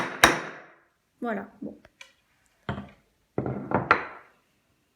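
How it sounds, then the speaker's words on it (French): An old hammer strikes a metal punch into a metal bracelet, giving several sharp, close metallic taps spread out over a few seconds, some single and some in quick clusters, with a brief spoken remark between strikes. "Moi, j'utilise un ancien marteau"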